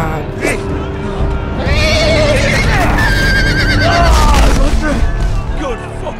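A horse neighs in the Game of Thrones video game, several shrill, wavering whinnies rising and falling over a busy battle din with low booms and hooves, loud and close, with voices talking underneath.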